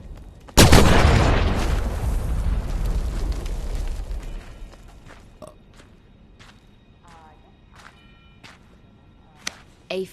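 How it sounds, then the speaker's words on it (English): A single heavy flak cannon blast in a video game booms out, its roar decaying over several seconds, followed by a few sharp mechanical clicks and clanks. "A flak cannon."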